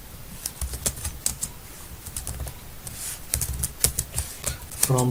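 Close computer keyboard keys click in short irregular bursts as an SQL query is typed in a MySQL tutorial, quiet and sparse with no talking.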